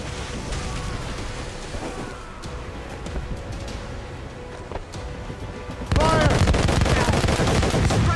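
Ship cannons firing during a naval battle in Assassin's Creed Rogue: a constant dense rumble of blasts and crackling that grows abruptly louder and fuller near the end, with no clear speech over it.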